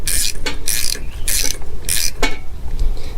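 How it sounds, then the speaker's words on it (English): A ratchet wrench tightens a bolt on a riding mower in short bursts of loud, close clicking, four or five quick strokes with brief pauses between them, no talking. "we're going to tighten this until the ratchet clicks"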